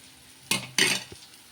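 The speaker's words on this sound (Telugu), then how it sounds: "బాగా ఇలా కలిపేసుకోవాలి కలిపేసుకొని కొద్దిసేపు మగ్గించుకోవాలి" Two quick scraping strokes of a spoon through egg uggani in a pan, followed by a small tap, close but fairly quiet with nothing else around.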